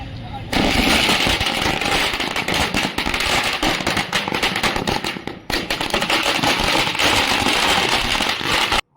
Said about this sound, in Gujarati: ભુજમાં પણ બીજેપી કાર્યાલય પાસે ફટાકડા ફોડીને જીતની ઉજવણી કરાઈ